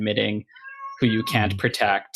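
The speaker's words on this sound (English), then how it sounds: "that was the cat." A house cat lets out one short meow in a brief pause between stretches of people talking in a podcast recording.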